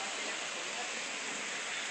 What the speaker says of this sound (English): it's like raining like crazy